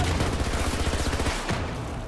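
P90 submachine gun fire in Battlefield 2042, rapid continuous automatic bursts over a dense battlefield din, loud and close, tapering off near the end.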